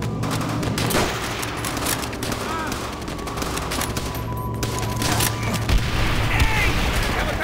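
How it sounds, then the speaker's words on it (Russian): Howitzer shelling and dense gunfire in the World War II shooter Call of Duty: World at War, with continuous loud booms, rattling bursts and chaotic battle noise and shouting voices mixed in throughout. "Гаубицы!"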